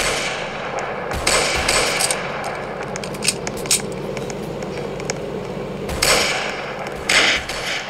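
Gunfire in the Roblox Brookhaven game during a police chase crackles in repeated bursts of sharp shots over a constant noisy background.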